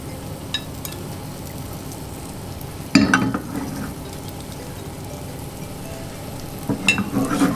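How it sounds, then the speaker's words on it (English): Steady soft sizzling of American-style pancake batter frying in a pan, with a couple of light clinks and scrapes of a utensil partway through. "While that one's frying off"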